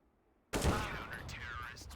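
AK rifle fire in a Counter-Strike esports match erupts suddenly after half a second of quiet, a loud close burst of shots with ringing tails and overlapping commentary chatter.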